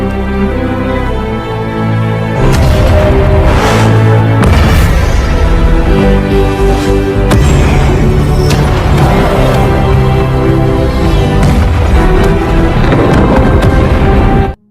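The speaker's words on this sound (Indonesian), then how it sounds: "ia memerintahkan Jarvis untuk meledakkan seluruh armor yang tersisa layaknya kembang api." Leftover Iron Man armors blowing up like fireworks in a film scene: dense, continuous booms and crackling bursts layered over a sustained orchestral score, loud and close throughout, with no talk.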